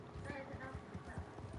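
Horse hooves clip-clopping at a steady walking rhythm in the Red Dead Online video game, faint and low, running beneath a person talking.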